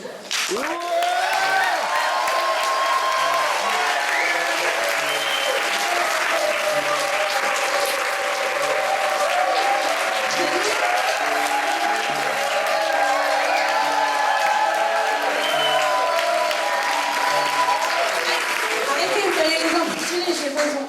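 An improv theater audience claps for the players: dense, sustained applause fills the whole stretch at an even, loud level, with a few scattered cheers mixed in.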